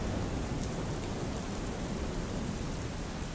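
Heavy monsoon rain pours down steadily across Amreli district in Gujarat, a dense continuous wash of broadband hiss at constant loudness with no pauses.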